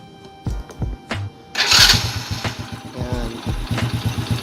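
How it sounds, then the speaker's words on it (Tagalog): Honda Wave 100 motorcycle engine being started: a few short cranking attempts, then the engine catches and settles into a close, sputtering idle. "Start ko lang very light yung motor."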